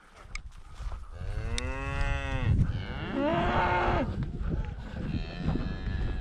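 Calves mooing in a farm pasture, several loud drawn-out bawling calls close by, one after another, with rustling and movement between them.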